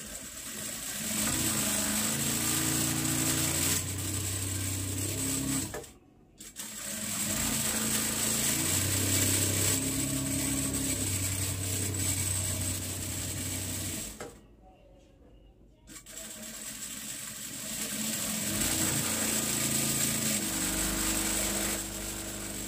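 A sewing machine stitches along a folded fabric edge, running in long steady whirring bursts broken by two brief pauses, close and loud with a buzzing motor hum.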